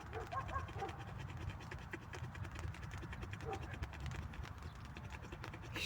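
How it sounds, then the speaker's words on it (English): A dog panting rapidly in panic during a thunderstorm, a steady quick rhythmic huffing under a low background rumble, with faint scratching and movement nearby. "And listen to my doggy panicking about the thunder."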